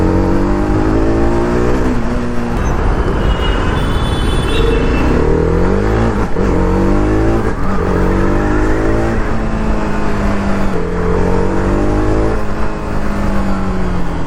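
A TVS Apache RR310 motorcycle with a 38 PS engine accelerates hard on the road, its engine note climbing through several gears in rising sweeps, loud and close with steady wind rush throughout.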